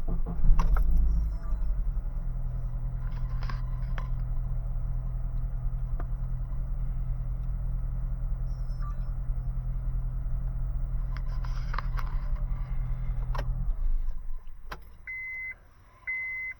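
A car engine turns over and settles into a steady low idle for several seconds, a constant rumble close by, then cuts out near the end as a couple of faint electronic beeps sound.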